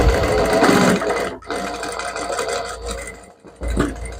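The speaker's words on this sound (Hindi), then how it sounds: "उस साइड पहले 1/2 इंच दूरी पे एक स्टिचिंग लगा लेते हैं" A sewing machine stitches a spaghetti blouse with a close, continuous whirring run that pauses briefly twice before starting up again.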